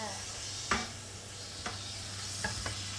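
Beef marinated with brown sugar and barbecue sauce is stir-fried in a pan for kebab, giving a soft, steady sizzle with a few distinct spatula scrapes spaced through it.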